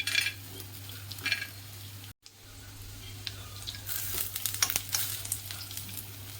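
Peanuts frying in oil with reddened onion for poha: a steady close sizzle and hiss. It cuts out briefly, then returns louder and brighter, with faint stirring underneath.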